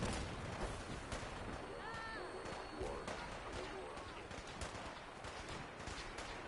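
Gunfire in a PS4 shooter video game: quiet, scattered bursts of shots and distant rattling fire sit low in a busy game mix, with faint in-game voices audible.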